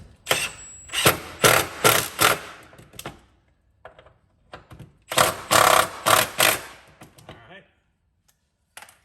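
A smaller impact wrench snugs the 14 mm nuts on the rear shocks of a 2016 Honda Odyssey Touring Elite, firing in several short, loud buzzing bursts in two clusters with brief pauses and faint clatter between.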